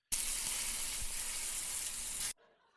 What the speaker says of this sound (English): Let's get sizzling.